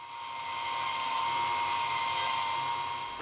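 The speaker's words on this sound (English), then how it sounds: "Just going to basically drill a hole in these and then fold them 90 degrees." A drill bores holes in metal brackets for dash cam mounting, a steady high whine held for a few seconds without talk.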